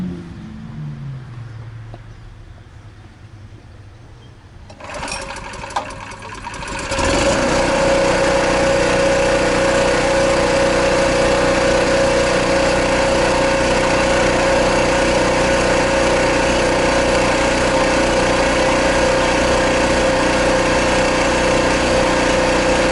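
A Champion dual fuel generator is started for RV living, with quiet handling noises followed by a pull and a catch, then the engine settles into a loud, steady, humming drone that runs without a break.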